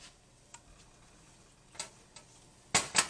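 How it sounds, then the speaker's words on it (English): A spoon stirring a thickening gumbo collard greens mixture in a pot, with a few faint scrapes early on and louder knocks and clatters near the end, close up and otherwise quiet. "just keep stirring it,"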